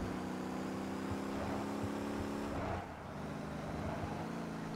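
A pickup truck engine in the Motor Town driving game, held in third gear on an uphill climb: a steady droning motor hum that dips briefly as a gear shift interrupts it, then carries on.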